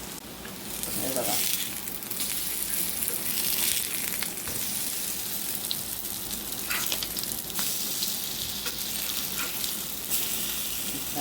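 Corn tikki with beetroot and mixed vegetables roasts in a hot pan. A continuous crackling sizzle carries on throughout, broken by a few sharper scraping or clinking moments as the patties are turned.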